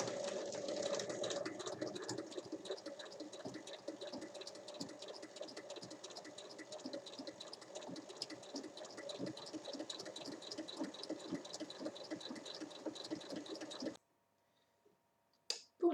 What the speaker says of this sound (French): on va faire une surpiqûre à 5 mm